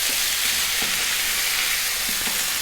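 Chana dal curry ingredients, including boiled dal, sizzle and fry steadily in a pan while being stirred, a continuous close hiss with faint scraping underneath.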